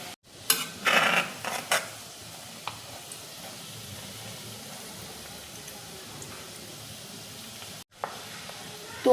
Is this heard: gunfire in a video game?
no